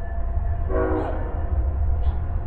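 A train crosses on the far side of a river near a bridge, making a continuous low rumble of rolling wagons with a short horn or whistle call rising briefly above it.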